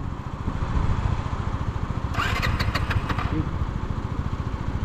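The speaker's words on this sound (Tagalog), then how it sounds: "meron na naman pong nagtakang pabuhayin yung ano, yung motor ni Dodoy" A motorcycle engine sputters and turns over repeatedly as someone tries to start it, a steady pulsing chug close by with a brief rattling burst partway through.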